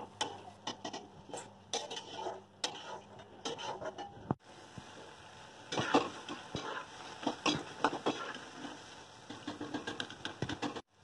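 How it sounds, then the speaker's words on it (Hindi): Coconut boondi frying in oil in a pan while being stirred, with soft sizzling under repeated scraping and clinking of a spoon against the pan, close and fairly quiet, with no talking. "तलते रहिए इसको, हिलाते रहिए और निकालते रहिए"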